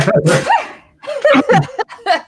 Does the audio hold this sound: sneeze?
yes